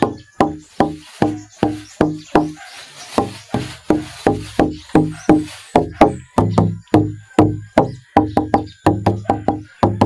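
Steady series of knuckle taps on an unfinished wooden guitar top, each a hollow resonant knock with short ring, about two to three per second, close up.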